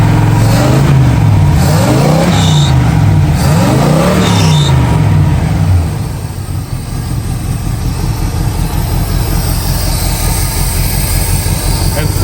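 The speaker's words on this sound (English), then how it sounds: "It really sounds pretty good. The motor sounds healthy, nice and quiet." A project car's motor idles, sounding healthy and fairly quiet. A humming engine tone rises and falls for several seconds, then gives way to a broad, steady rumble and hiss.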